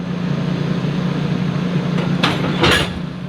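Passenger cars of the Great Smoky Mountains Railroad steam train roll along with a steady, close rumble, broken near the end by a couple of brief bright hissing bursts.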